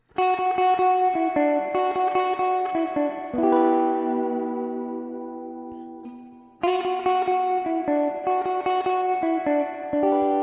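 Electric guitar plays picked notes and ringing chords with a lush reverb tail, pausing on a sustained chord that fades before the phrase repeats.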